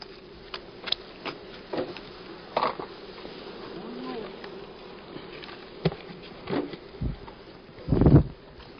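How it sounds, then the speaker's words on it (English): Bees buzz steadily around an outdoor beekeeping scene in 1970s Florida, a constant insect drone with a few louder passes close to the microphone and some muffled talk in the background. "You gonna eat it with the bee on it?"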